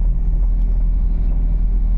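Cars speed along a road with a steady, loud, low rumble of engines and tyres. The traffic noise is continuous and close, with no talking.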